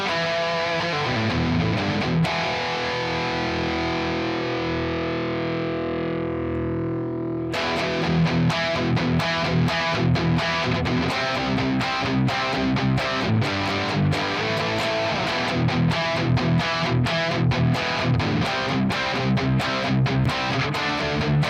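Electric guitar through an Amped Roots amp-sim preset, heavily distorted, first a long sustained ringing chord fading for several seconds, then a dense run of loud picked chords and riffs with bright attacks, no talking.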